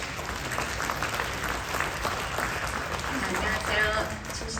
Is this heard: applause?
yes